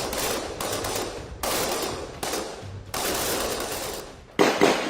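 Bursts of rapid gunfire from Indian Army para commandos at a firing range crackle in repeated volleys, each a second or so long, with short pauses between them.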